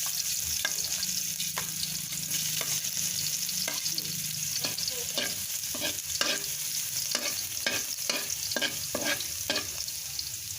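Chopped garlic fries in hot oil for a pork-free Filipino ginisang patola with misua and egg, a steady broadband sizzle running throughout with a scatter of sharp crackles and stirring scrapes, close and loud, no talking.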